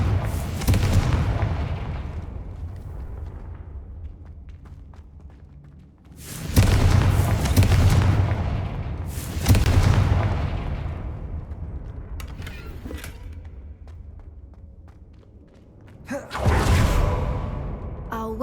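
Confringo fire spell explosions in the video game Hogwarts Legacy, several loud booming blasts that arrive at irregular intervals, each one fading out slowly, with no talking in between.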